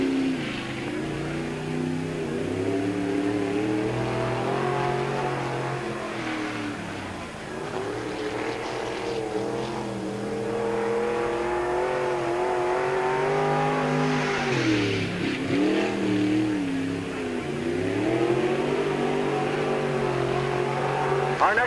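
A race car on a qualifying lap at Peoria Speedway in 1997 roars continuously, its engine note rising and falling with each acceleration and lift around the short oval, heard at a steady moderate distance.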